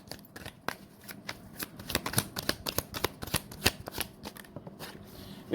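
A deck of tarot cards is shuffled up close, a quiet stream of rapid riffling flicks and taps running continuously without a pause.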